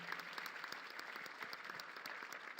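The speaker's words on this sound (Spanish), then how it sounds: "Un aplauso." An audience at a smart city expo keynote in Puebla claps steadily, many individual hand claps blending into a continuous, moderately distant applause with no speech over it.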